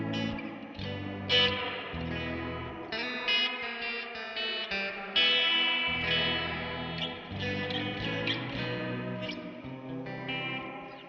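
Electric guitar played through a homemade reverb/tremolo/delay pedal with modulation depth turned all the way up, chords swelling and wobbling in a washed-out, shimmering reverb tail, steady and moderately loud with no talking.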